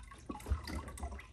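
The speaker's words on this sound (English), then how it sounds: "that water flows into this top section through this hole, and that's what's making the noise" Water from a pump trickles and splashes through a hole into the top section of a small Back to the Roots aquaponics fish tank, a faint continuous gurgle with no talking.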